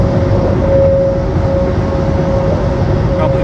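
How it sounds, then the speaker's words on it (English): A heavy many-tired truck rumbles steadily close by, a deep broadband roar with a faint sustained whine running through it. "I get around this truck, it's making a lot of noise because it has like 400 huge tires"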